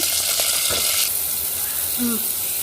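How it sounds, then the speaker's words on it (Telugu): Chopped onions frying in oil give a loud, steady, close sizzle throughout, with a few brief clinks and scrapes on top. "నేను నూనె వేసుకున్నాను ఇప్పుడు ఉల్లిపాయ ముక్కలు వేసుకుంటున్నాను"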